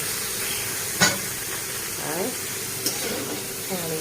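Spices sautéing with boiled papaya and potato in a pan give a continuous close sizzle, with a couple of sharp spatula knocks and scrapes against the pan and faint background sounds.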